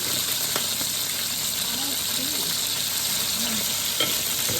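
Cooking oil spits and crackles in a hot pan as food fries, a steady close sizzle with scattered pops, while a voice speaks briefly over it.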